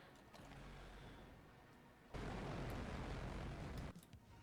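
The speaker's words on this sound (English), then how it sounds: "those long-range missiles didn't go very far" Long-range missiles firing in the Roblox game Starbase: a rumbling low burst swells in, then a much louder, dense roar holds for about two seconds before cutting back, with no talking.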